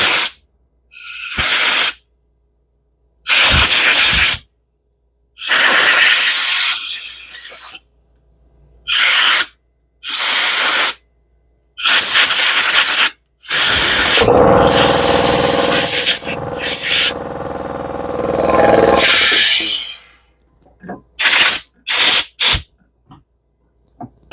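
Compressed air blown through a Firman generator carburetor in a series of sharp hissing bursts of varying length, one long blast near the middle, separated by quiet gaps.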